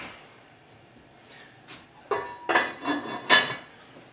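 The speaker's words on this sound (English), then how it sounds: "We go ahead and put a lid on it." A lid set onto a big pot full of tomatoes on a stove, a few metallic clanks and rattles close by, the loudest near the end.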